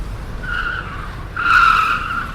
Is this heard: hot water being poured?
no